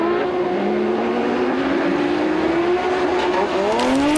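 A Dacia Duster race car competes in the 2009 Andros Trophy ice race, its engine droning loud and continuous, with the pitch climbing and shifting as it revs through the run.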